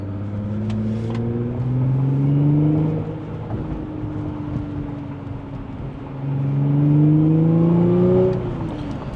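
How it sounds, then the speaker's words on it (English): A 2016 Audi S5 B8.5 with a 3.0 V6 and about 100,000 miles drives along, its exhaust droning and rising through two accelerations with a smooth, building tone and easing back between them, heard from inside the car. "Obviously, we'll get a little bit more exhaust sound once we get onto the highway"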